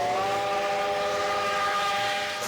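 A freight train in Brazil's Southeast sounds a sustained, steady whistle over a low mechanical rumble, loud and unbroken for the whole stretch, with no voices.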